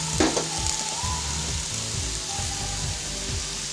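Potatoes and onions with spices fry in a pan, a steady close sizzle with repeated rhythmic scraping of a spatula stirring them, no talking.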